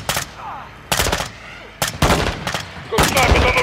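Video game gunfire from Modern Warfare 2's campaign comes as several loud, sharp bursts separated by short gaps. Voices can be heard shouting between the bursts.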